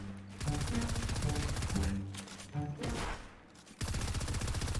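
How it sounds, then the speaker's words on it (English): Rapid SMG bursts in a one-on-one video game match, loud continuous automatic fire broken by a couple of brief pauses, with faint talk in the background. "Bro, you just keep using that SMG."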